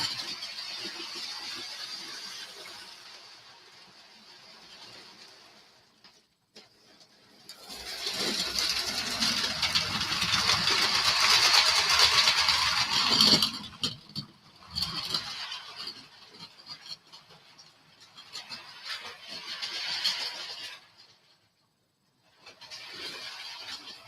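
Hall class model railway locomotive running on a layout, its wheels spinning while trying to pull, a faint mechanical whir that rises and falls in bursts with quiet gaps between.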